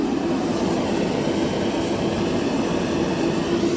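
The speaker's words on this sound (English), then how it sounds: "sorry about the noise. That's the heater for the shed here." A space heater runs inside a cold shed, giving a loud, steady whooshing roar with a low hum underneath that holds constant throughout without any speech.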